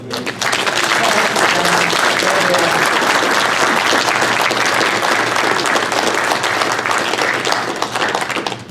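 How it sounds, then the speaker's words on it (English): Audience applause for Keith and Patricia at a 16mm film association's annual general meeting, a loud, sustained round of clapping from a room full of people, continuous from start to finish. "We'd like a round of applause for Keith and Patricia"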